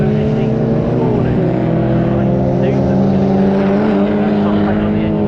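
Stock hatchback race cars at Snetterton circuit roar past in a continuous loud, droning engine blur during a Classic Stock Hatch Championship race, with race commentary running over the top.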